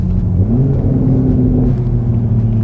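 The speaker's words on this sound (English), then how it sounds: "Of course, you know he's gonna rev up." A BMW 4 Series, a debadged 435 or 440, idles close by, giving a deep, steady engine rumble with slight swells in tone and no voices over it.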